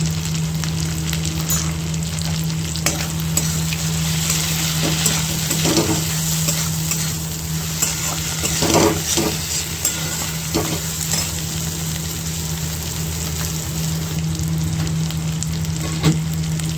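Aloo gobi of potato and cauliflower fries in a pan with garam masala, giving a steady loud sizzle with repeated scraping stirs throughout, no voices.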